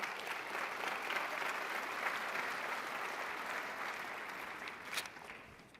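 Steady applause from a crowd at a general session of a national conference, sustained and fairly even for several seconds before tapering slightly near the end, with no talking over it.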